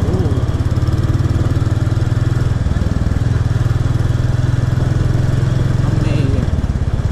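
Zontes X1 350 adventure motorcycle engine running on the road, a close, loud, steady throbbing putter that holds evenly throughout, with a slight shift in tone near the end.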